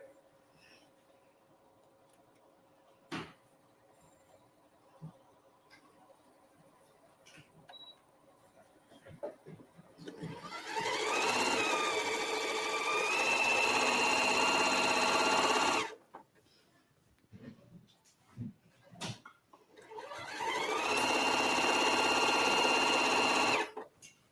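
A sewing machine stitches a quilt seam in two sustained, fairly loud runs, the first about six seconds and the second about four, separated by a short pause with light clicks and handling.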